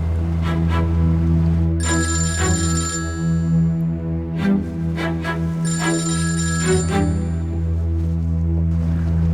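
A telephone bell rings in two long bursts separated by a pause, loud and close, over a steady low hum.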